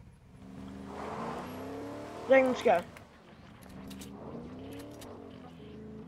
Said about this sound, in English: This is my Fortnite car live stream.